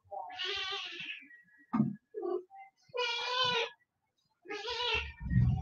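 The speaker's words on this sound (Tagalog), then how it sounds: "Yung pusa ko may iyak." A pet cat crying indoors, giving several loud, drawn-out plaintive meows close to the microphone, separated by short pauses and soft rustles, with no talk during the cries.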